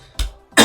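Two sharp coughs from a nearby man, separated by a short pause, during a Risk of Rain gaming session; the second cough is louder and fuller.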